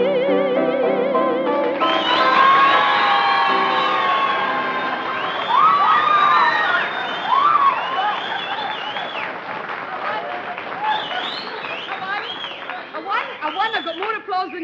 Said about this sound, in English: I got more applause than you.